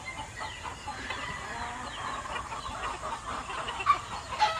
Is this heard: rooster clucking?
yes